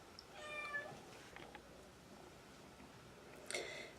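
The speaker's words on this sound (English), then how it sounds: "You hear that little kitten in the background?" A kitten meows twice, thin high cries at the start and near the end, fairly faint against a quiet background hiss.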